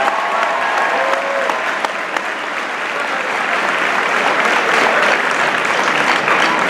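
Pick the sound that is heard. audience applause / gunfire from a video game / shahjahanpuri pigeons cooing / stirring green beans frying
audience applause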